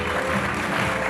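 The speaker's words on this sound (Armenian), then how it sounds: "Եկեք ծափահարենք ևս մեկ անգամ այս փոքրիկների" An audience claps for young dancers at a dance event, a dense steady patter of many hands sustained through the brief moment with no voices.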